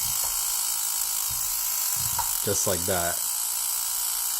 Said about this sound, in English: This is an iPhone 5S and an EMP